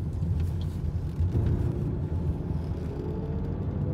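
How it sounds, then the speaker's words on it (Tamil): A Volkswagen Passat TDI automatic rolls over an uneven road, heard from inside as a steady low rumble of tyres and diesel engine, continuous and fairly loud with no talk. "இது மாதிரி வேவரியாக இருக்கிற ரோட்லேயே பார்த்தீங்கன்னா வண்டி வந்து செம ராக் சாலிடாக போகும்"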